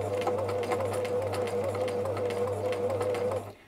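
A sewing machine runs a triple stitch, a steady mechanical whir with a faint repeating patter as each stitch is sewn three times, continuous and close for a few seconds before it stops abruptly.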